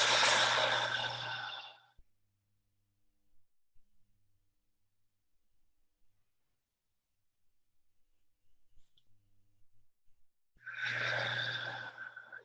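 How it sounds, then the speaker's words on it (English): Two long, deep breaths, each a slow audible inhale and exhale close to the ear, separated by a stretch of near silence during a guided breathing exercise. "so let's just take a few deep breaths together."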